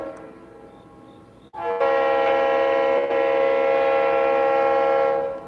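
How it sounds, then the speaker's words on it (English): A freight train sounds a loud, sustained multi-tone horn that starts abruptly and holds steadily for several seconds, close and dominant over faint rail rumble, with no talking. "that's got a beautiful freight train horn too"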